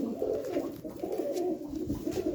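A black-patched pet pigeon coos continuously in a low, throaty warble, close and moderately loud, with no one talking over it.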